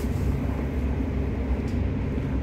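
A steady low rumble and hiss fill the interior of a moving train's first-class carriage, loud and continuous with no voices, heading toward the Johan Cruyff Arena in Amsterdam.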